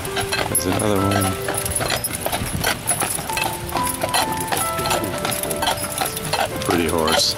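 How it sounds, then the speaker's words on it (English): Hooves of big carriage horses clop steadily on pavement amid busy street noise, with people talking over the rhythmic clatter. "These are big horses pulling these carriages."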